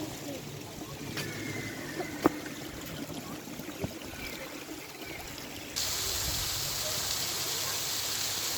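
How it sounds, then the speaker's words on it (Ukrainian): Steady rushing and trickling water from a small waterfall over stones in Nova Sofiivka park in Uman, Ukraine, growing louder and brighter partway through, with a couple of faint clicks and no voices. "Такий ось водоспад"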